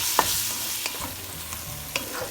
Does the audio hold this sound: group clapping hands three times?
no